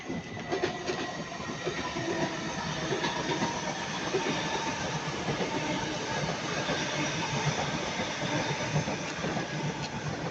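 A Class 331 electric multiple unit rolls past at Ardwick, bound for Liverpool Lime Street, with a steady, continuous rumble and faint wheel squeal and rail clatter, moderately loud and close, and no voices.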